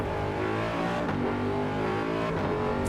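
A racing car engine in the video game Assetto Corsa EVO drones loudly and steadily, holding a high gritty pitch with slight rises and dips as it revs, no talking.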